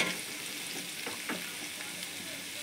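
Tomatoes drop into a pan of sautéed onions and fry with a steady crackling sizzle, with a few scraping stirs and soft clicks of the spoon close by and no voices.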